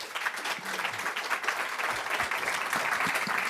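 Audience applause welcoming Nobel physicist Pierre Agostini at a live interview event, a steady, moderately quiet patter of many hands clapping.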